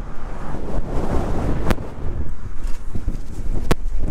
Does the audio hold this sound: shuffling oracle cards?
no